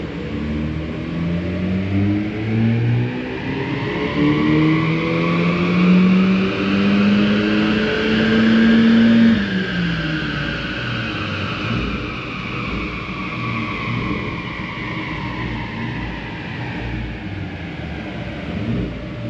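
A tuned stage one Audi TTS revving on a dyno during a power run, the engine note climbing steadily to a loud peak, then easing off into a lower drone.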